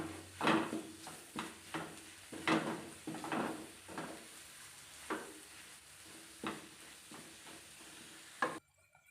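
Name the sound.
coriander and chili powder masala frying for Kerala beef curry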